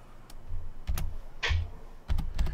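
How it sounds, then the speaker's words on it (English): Someone types on a computer keyboard in scattered bursts of light clicks and taps, with short pauses between them. The typing is close and moderately quiet, with a low background hum and no talking. "And I'm typing the name in."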